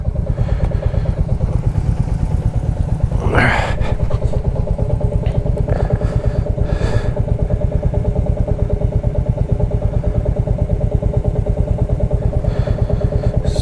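Motorcycles idle steadily at close range before setting off on a long ride from Delhi toward Jammu and Ladakh, a continuous rhythmic engine putter with a brief louder rev partway through, almost no talk.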